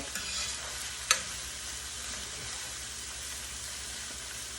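Vegetables such as bottle gourd fry together in a pan, giving a constant, close hiss of oil and steam. A single sharp clink of a utensil against the pan is heard early on.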